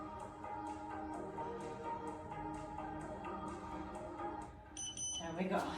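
Several short electronic workout-timer beeps come at a regular pace, loud and close, under and between a voice talking, and end with a brighter tone burst.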